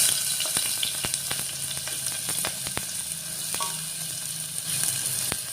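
Chopped onion sizzles steadily in hot mustard oil, a continuous close frying hiss with scattered sharp pops and a few light stirring clicks, no voices.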